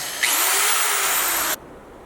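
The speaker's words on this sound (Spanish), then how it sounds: "podemos ir subiendo de a poco la velocidad de nuestro taladro" A handheld power drill spins up as its trigger is squeezed, the whine rising steadily in pitch for over a second before it cuts off abruptly, loud and close with no talk.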